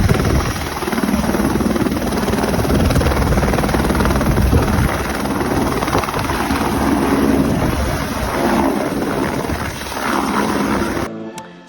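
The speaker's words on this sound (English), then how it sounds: "The activity this morning is the helicopter ride." Loud, steady helicopter rotor thrum heard from inside the cabin on a sightseeing flight over Kauai, Hawaii, constant and close with rushing wind, continuing without pause until it cuts off at the end.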